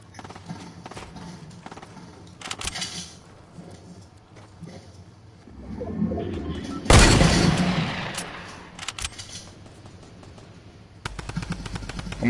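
Gunfire in an online shooter video game, bursts of rapid shots with a dense loud volley in the middle, ringing out alone without talk.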